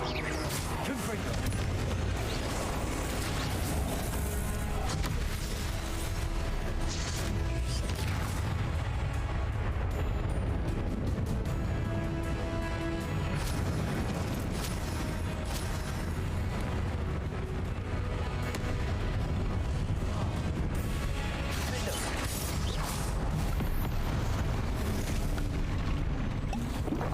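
Fire-spell explosions burst in the Hogwarts Legacy game, with continuous booming blasts and crashing debris under a dense, loud battle soundscape, while a voice casts the spell.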